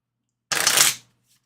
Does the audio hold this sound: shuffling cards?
yes